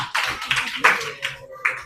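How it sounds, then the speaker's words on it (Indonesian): A classroom applauds a student group after its presentation with a brief scatter of sharp hand claps, about five distinct bursts, close and fairly loud. "Berikan tepuk tangan untuk kelompok 5"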